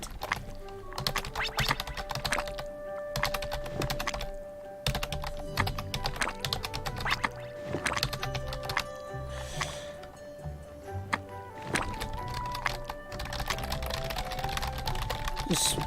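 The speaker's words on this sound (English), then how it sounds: "This is impossible to do with a keyboard." Computer keyboard keys are rapidly mashed during play of The Golden Compass game, a dense flurry of clacking taps in bursts with brief pauses, close and fairly loud.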